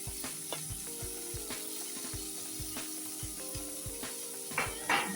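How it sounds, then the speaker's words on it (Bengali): Tomato and spring onion sauté in a pan with a steady high sizzle, while a spoon scrapes and stirs in a regular rhythmic ticking pattern close by. "দিয়ে আমি একটু ভালো করে সাঁতলে নেই, ভাজা না সাঁতলে নেই"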